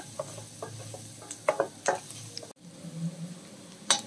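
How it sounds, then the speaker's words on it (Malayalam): Onions sautéing in oil in a steel pan, stirred with quick scrapes and light clinks of a utensil over a soft, steady sizzle, close and fairly quiet, with no talk. "സവാള നന്നായിട്ട് വഴണ്ടു വന്നിട്ടുണ്ട്."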